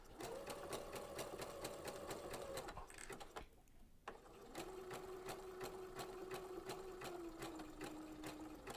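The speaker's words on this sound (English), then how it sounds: "I'm just going to start sewing." Sewing machine stitching fabric in a fast, steady mechanical chatter, pausing briefly midway and then resuming at a slightly lower pace, close and clear with no voices.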